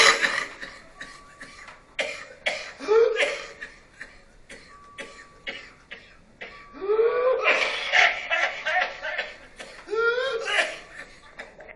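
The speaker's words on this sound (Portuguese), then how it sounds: "Não aguenta mais tossir." A man coughs repeatedly in harsh bursts and clears his throat during a Portuguese-language talk on the Vaccine Revolt, with short chuckles and spoken words mixed between the fits, heard close and fairly loud.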